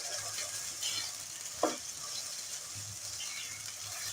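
Whole garam masala of cinnamon pieces, cloves and black pepper roasting in a pan, with a soft steady sizzle, a faint scraping of the spoon and one sharp clink partway through, with no talk.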